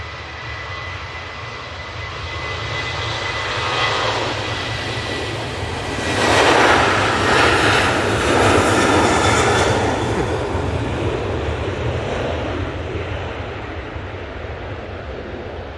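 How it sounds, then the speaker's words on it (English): A Gulfstream business jet departs Manchester Airport, its engine roar steady and fairly loud throughout, swelling to a peak midway as it passes before easing off, with no talking. "we'll get it on departure, Andy, that Gulfstream, because that's a good looking aircraft, mate."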